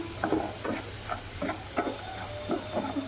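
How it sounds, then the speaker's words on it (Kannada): Dry semolina rasps and scrapes against a pan in short repeated strokes as it roasts for rava laddu, a steady stirring rhythm over a faint background hiss. "ಇದು ರವೆ ಉಂಡೆಗೆ ರವೆ ಹುರ್ಕೊತಾ ಇದ್ದೀನಿ"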